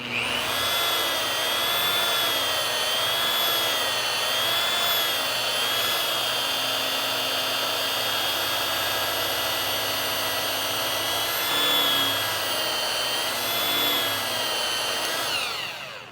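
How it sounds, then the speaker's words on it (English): A rotary polisher whines steadily on car paint, a constant high-pitched motor drone with slight pitch wobble, close and continuous, ending as it stops. "Now I do have to slightly tilt this polisher as I come this way"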